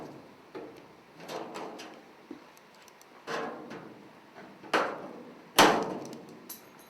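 Sheet metal for a duct transition gets its corner notched: a series of sharp, crunchy metallic cuts at irregular intervals, ending in one louder snapping clip, close by with quiet gaps between.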